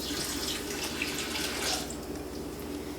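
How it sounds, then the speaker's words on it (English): Liquid pours into a bread machine in a steady, soft trickling stream close by, with no one talking. "you want to pour it into your bread machine or into your bowl"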